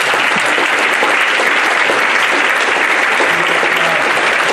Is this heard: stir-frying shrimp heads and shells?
no